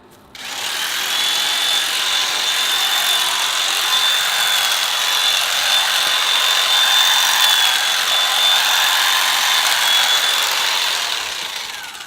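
Power trimmer cutting back a fernbush shrub outdoors, a steady, loud whine that starts abruptly and holds for about eleven seconds before easing slightly at the end.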